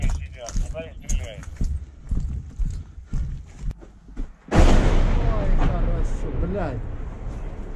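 A 150 mm artillery shell strikes close by on a Bakhmut street, a sudden loud blast cutting through quieter scuffling and shuffling, then a long roaring rumble that slowly fades while people talk.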